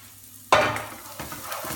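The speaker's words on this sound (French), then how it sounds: "Je vais les faire cuire avec mes oignons." Sliced mushrooms drop into a hot pan with onions and start sizzling loudly all at once, followed by a steady close fry with a few stirring scrapes.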